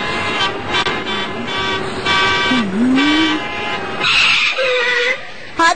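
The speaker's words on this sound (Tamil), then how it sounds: "எதுக்கு பீ பீன்னு ஹார்ன் அடிச்சிட்டு இருக்கீங்க?" A cartoon car horn honks in a few short toots against engine noise, followed by a higher squealing burst near the end, with no talking.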